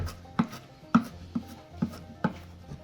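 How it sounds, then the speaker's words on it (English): A knife rough-chops food on a cutting board, five crisp, evenly spaced thuds over a few seconds, close and clear with no talking. "we're just gonna do a rough chop"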